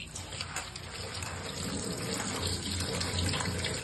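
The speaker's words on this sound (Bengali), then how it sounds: "চলো আলুগুলো ধুয়ে নিই।" Running tap water gushes steadily and close by as potatoes are rinsed under it at a kitchen sink, the flow getting slightly heavier toward the end.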